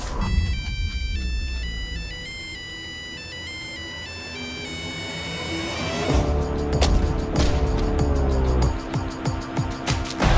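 A telephone rings with a bright, repeating electronic ringtone, then gives way to dramatic music with heavy crashing hits in a Turkish film trailer.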